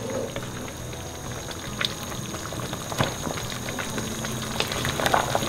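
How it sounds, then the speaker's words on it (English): Lamb dumpling stew bubbles and pops steadily in a pot, a soft continuous simmer with occasional sharper blips, close and fairly quiet. "You can see it's still boiling away."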